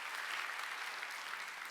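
A church congregation at a Wednesday worship service claps in a steady, dense wash of applause that lasts the whole moment, heard from a distance at moderate volume.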